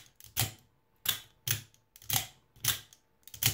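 A Titan OTF knife clanks as its blade fires and retracts, making about eight sharp metallic clicks in a loose, uneven rhythm, close and fairly quiet.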